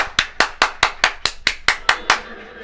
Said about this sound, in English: This is the sound of one hand clapping